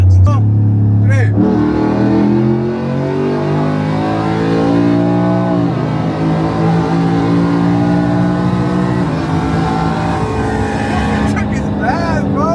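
A fast pickup truck with a hot engine revs and accelerates at a truck meet. Its loud, rising and falling engine sweeps stay close throughout, with people talking over the roar.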